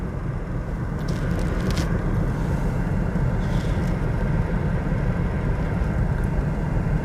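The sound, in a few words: car slowly starting to move as the clutch is released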